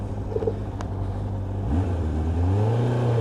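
A Suzuki GSX600F sports motorcycle accelerating, its engine note climbing steadily in pitch through a gear change, a close, sustained mid-range drone with no talk over it.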